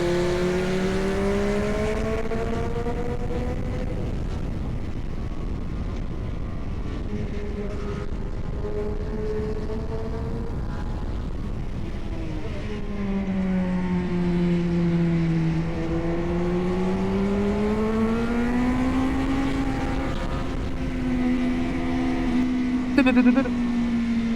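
Small £400 Korean sportsbike ridden fast on a race track, its engine note rising and falling smoothly through corners and straights, a steady droning buzz heard from the bike itself amid wind noise.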